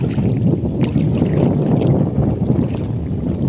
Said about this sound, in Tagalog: Hangin sa kaayo man.